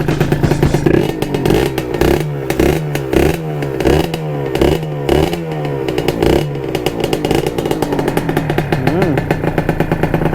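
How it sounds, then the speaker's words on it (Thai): A Kawasaki KR150 two-stroke motorcycle revs loud and close through its exhaust, with a burst of rapid, evenly repeated throttle blips followed by a sustained buzzing rev. "เสียงท่อก็จะดังขึ้นมาหน่อยนะครับ"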